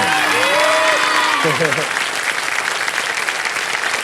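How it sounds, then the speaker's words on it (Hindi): Kaun Banega Crorepati studio audience claps loudly and continuously, a thick sustained round of applause, while music and a voice briefly sound over it near the start before the clapping carries on alone. "जोरदार तालियां बजाएं"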